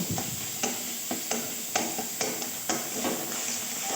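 Chhana (cottage cheese) fries in a pan for a mango sandesh sweet, with a steady sizzle broken by repeated scraping stirs at a regular pace, close and fairly loud, with no talking.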